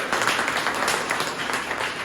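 Seminar audience in Jharkhand breaks into steady, dense applause that stays even and fairly loud for a couple of seconds, with no voices heard over it.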